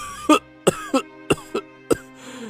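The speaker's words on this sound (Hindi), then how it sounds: "इतना कहकर बूढ़ा फिर से खांसने लगा" Old man coughing, six harsh, close bursts in quick irregular succession with short pauses between them and no speech.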